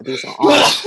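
A short sneeze bursts out right after a few quick spoken words, loud and close.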